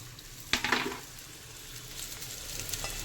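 Pasta dropped into a hot pan sets off a sharp burst of sizzling and frying that fades into a softer crackle, with light stirring and scraping clicks later, close by and with no talk.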